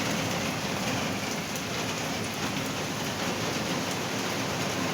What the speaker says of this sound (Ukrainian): Балується з нами дощик. То почнеться,